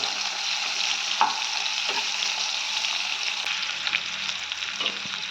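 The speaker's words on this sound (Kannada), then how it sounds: "ಇಲ್ಲಿ ಒಂದು ಈರುಳ್ಳಿನ ಫ್ರೈ ಮಾಡೋಕೆ ಹಾಕೊಳ್ಳೋಣ." Onion frying in a pan for chicken masala, a steady close sizzle and crackle of oil throughout with a few soft stirring clicks, no talking.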